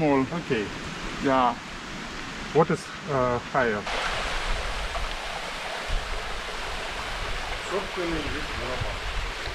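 A waterfall on Mahé in the Seychelles, running low in a dry spell, gives a steady broadband rush that takes over after a few seconds of nearby people talking and continues alone, constant and moderately close.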